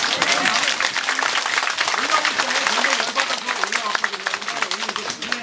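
A crowd at a meeting or briefing session claps in sustained, dense applause for several seconds, with voices murmuring beneath the clapping.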